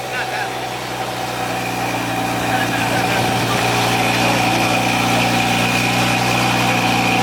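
A BMW F30 340i fitted with a 4.5-inch downpipe idles at a car meet, its engine holding a steady, loud drone that swells slightly louder toward the end.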